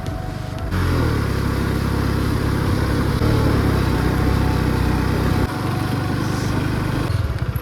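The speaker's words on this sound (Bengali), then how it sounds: "চলো এবার বাইক নিয়ে কতটা আগে এগোতে পারি দেখি।" Motorcycle engine running loud and close as the bike rides along, a steady buzzing drone that drops slightly in pitch partway through.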